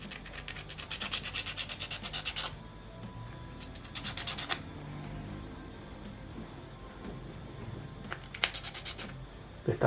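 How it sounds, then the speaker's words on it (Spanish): Close, rapid sanding strokes rasp in quick bursts on a small tooth piece of an Allosaurus 3D model kit, with two longer scraping runs and a short final flurry separated by quiet pauses. "Puedes lijar esta parte que es el dientecito."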